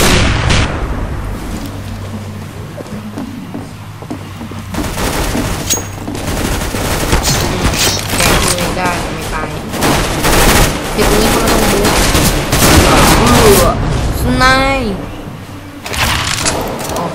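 Gunfire in the video game Counter-Strike: Global Offensive, rapid bursts and single sharp shots cracking repeatedly at close range, loud and continuous, with someone talking over the shooting.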